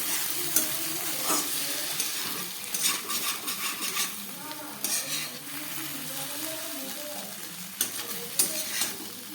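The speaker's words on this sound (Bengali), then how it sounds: "সর্ষে বাটা দেওয়ার পরে হালকা করে গ্যাস কমিয়ে রান্না করলাম।" Kochur loti (taro stolons) cooking with mustard paste in a pan over low heat, giving a steady soft sizzle with scraping stirs and occasional clinks of a utensil against the pan.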